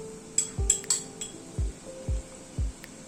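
A spoon clinks against a pot again and again while coconut milk goes in spoonful by spoonful to a simmering dish with oil and hot water, giving several bright, close metallic taps spread through the moment.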